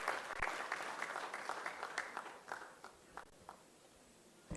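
Audience applause for a speaker stepping up to the podium at a live talk on India's place in a fractured world, a burst of clapping that is loud at first and then thins to scattered claps that trail off.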